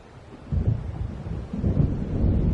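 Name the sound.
thunderstorm, from the video game Alan Wake Remastered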